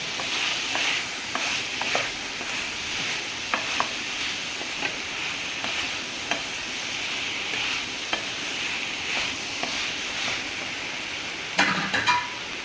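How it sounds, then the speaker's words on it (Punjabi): Potatoes and spices are stirred in a frying pan for aloo palak, giving a steady sizzle with repeated scraping clicks of the spoon against the pan, close and alone. "ਚੰਗੀ ਤਰ੍ਹਾਂ ਮਸਾਲੇ ਆਲੂਆਂ ਦੇ ਵਿੱਚ ਆਪਾਂ ਮਿਕਸ ਕਰ ਲੈਂਦੇ ਹਾਂ"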